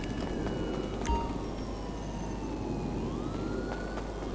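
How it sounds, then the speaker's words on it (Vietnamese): A police car siren wails in the GTA 5 video game, a thin distant rising and falling tone under a constant low rumble of game noise, with a single brief knock partway through. "còn có tiếng xe cảnh sát nữa kìa"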